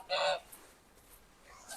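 Geese out front on a spring homestead give a loud, close honk followed by a fainter second call about a second later, heard alone in a quiet yard.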